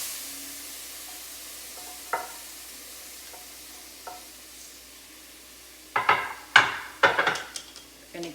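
Onions are stirred into a dark, milk-chocolate-colored roux: after a near-silent stretch with a couple of light taps, a burst of wet sizzling and spoon scraping takes over in loud, uneven strokes.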